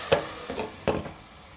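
A spoon scrapes through thick ridge gourd curry in a pan three times in quick succession, soft and close, with a faint sizzle underneath.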